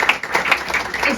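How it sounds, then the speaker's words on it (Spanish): An audience applauds for Verónica at a presentation event, a brief burst of scattered clapping with a voice talking over it. "Un aplauso para Verónica, gracias"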